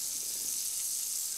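Smoked pork sizzling lightly in a hot pan, a soft, even, continuous hiss that stays quiet and steady throughout.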